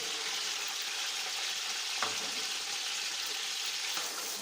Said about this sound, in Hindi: अब एक प्याज है मेरे पास बारीक कटा हुआ, ये शामिल कर लेंगे।